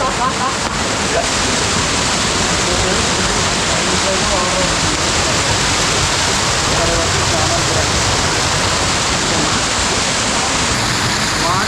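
A waterfall at Araku, fed by cold water, roars in a steady, loud broadband rush that fills the whole span without pause.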